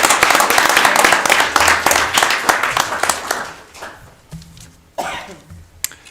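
An audience at a city council meeting in Lewiston applauds award recipients with dense, close clapping that thins into scattered claps and tails off, with a cough or two near the end.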